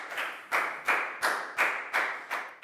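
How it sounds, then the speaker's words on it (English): Classroom applause: a handful of sharp, evenly spaced claps, about seven in quick rhythm, close and fairly loud with no talking. "High five and a big round of applause for Pak Bung, please, guys."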